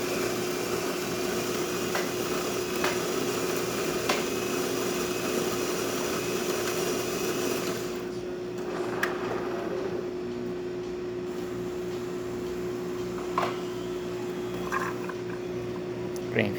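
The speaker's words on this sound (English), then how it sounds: "And now we're going to be doing one espresso shot." A Jura XS90 coffee machine, just back from service, grinds and brews a single espresso shot. It gives a steady mechanical hum with a tonal whine and low liquid gurgling, and a few faint clicks come in the quieter second half.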